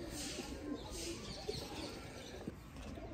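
Sialkoti breeder pigeons cooing in a loft, soft low coos repeating over steady background hiss, with no talk.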